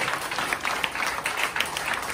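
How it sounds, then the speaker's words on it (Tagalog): A church congregation at a Hanukkah night worship celebration applauds, giving dense, steady clapping from many hands close by, with a few louder individual claps poking through the even wash. "Palakpakan po natin ang Panginoon sa kanyang buhay."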